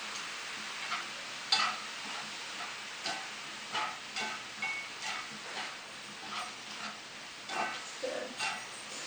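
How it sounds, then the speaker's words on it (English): Bok choy sautés in a hot pan with a quiet, steady sizzle. Soft stirring knocks and scrapes recur every second or so, and no voices are heard. "Bok choy saute really quick too."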